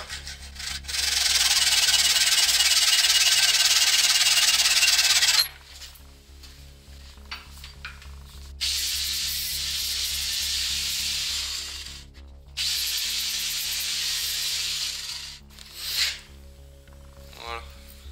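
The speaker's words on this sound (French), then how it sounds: "je vais couper la petite tige en acier" Cutting a small steel rod: a steady hissing, abrasive whine in three long runs separated by pauses, close and fairly loud over a low hum, ending with light metallic clinks.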